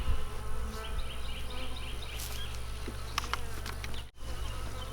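Bees buzz faintly during removal of a bee hive, a thin, steady insect drone over a noisy outdoor background with no talking.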